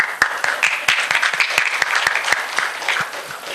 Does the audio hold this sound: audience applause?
yes